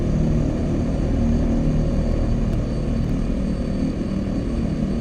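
The propeller engine of an OV-10 Bronco in a VR flight game drones steadily at low speed, a loud continuous hum and buzz holding throughout with no speech.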